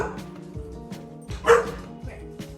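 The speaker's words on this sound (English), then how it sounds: "They bark at her." Dogs bark in a few short outbursts, fairly close, with a louder bark near the middle, while a person talks quietly alongside them.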